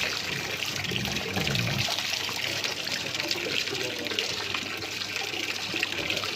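Water runs steadily from a tap while sheep drink, a continuous close hiss and splash with no pauses and no voices.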